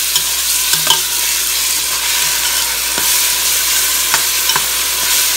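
Hot pot broth with chili peppers being stirred in a pot over high heat, Cambodian style, giving a steady close scrape and swish with occasional spoon knocks over a soft bubbling sizzle, no talking.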